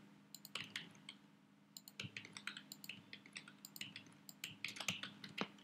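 Rapid, uneven keystrokes on a computer keyboard while HTML code is typed, sharp clicks in quick bursts with short pauses over a low steady hum, fairly faint and close, no voices.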